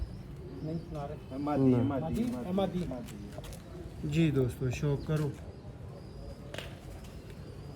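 Sialkoti black-faced pigeons on a rooftop loft, soft cooing and murmuring calls rising and falling under someone talking throughout.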